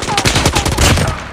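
Rapid, dense bursts of automatic gunfire from the mobile shooter Call of Duty Mobile, in a gun game match. The shots are loud and close, cracking continuously with no pauses.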